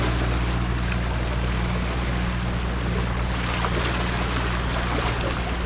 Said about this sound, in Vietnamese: một chiếc ghe chở cá